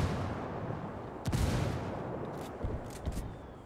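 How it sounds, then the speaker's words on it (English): Distant artillery fire in Ghost Recon Wildlands: a few dull thuds and short bursts break through a steady low wash of ambient game noise, the strongest impact early on and smaller cracks following. "Oh no, artillery."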